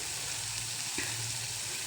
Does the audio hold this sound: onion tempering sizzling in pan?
yes